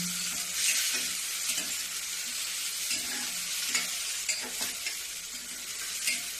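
Tomatoes frying with onions in a pan for mixed dalia, bright continuous sizzling broken by regular scraping strokes of a stirring spoon, close and unaccompanied by talk.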